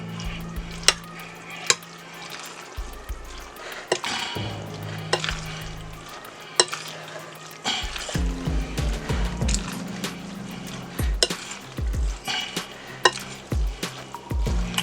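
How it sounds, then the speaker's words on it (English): Stirring macaroni ham salad with pre-cooked store-bought ham cubes, a close run of soft wet scrapes and squelches with a few sharp utensil clicks against the bowl, steady throughout with no talking. "we're going to stir this up gently"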